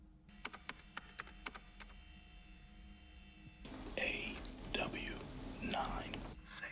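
Computer keyboard typing from the 1996 film Mission Impossible: a run of sharp, separate keystroke clicks comes first, then quieter tapping continues under hushed whispering voices.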